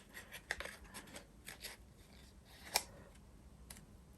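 Small craft scissors snipping cardstock around cherry blossom edge dies, a series of light, crisp ticking cuts in quick succession with one sharper snip standing out, close and quiet with no talking.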